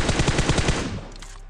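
Rapid automatic gunfire in a mobile battle royale match, a loud close burst of about ten shots that stops abruptly and trails off into a fading echo.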